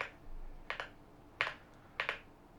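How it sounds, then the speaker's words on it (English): Keys pressed on a YUNZII C75 mechanical keyboard, including the Windows key: four quiet, crisp clicks spaced about half a second apart, close up and alone. "So when you press your Windows key"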